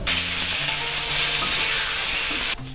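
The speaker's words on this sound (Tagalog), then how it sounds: "igigisa na natin ang ating sibuyas, bawang at yung ating luya" Onion, garlic and ginger sautéing in a pan as a tinola base, a steady loud sizzle with broadband hiss that runs without break and then drops off sharply near the end; no talking.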